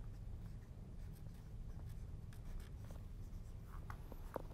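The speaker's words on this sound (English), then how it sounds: "I'm going to write alkyds over here." A pen scratches out a label on a paint board for alkyd oil mediums, with soft, close strokes in quick bursts over a low steady room hum.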